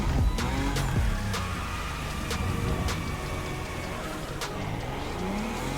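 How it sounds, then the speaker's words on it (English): Simulated car drifting in The Crew Motorfest, driven with a Fanatec CSL steering wheel: a steady, loud engine drone with revving and tire squeal runs throughout, with several sharp transient clicks over it. "You have less control, but the car drifts."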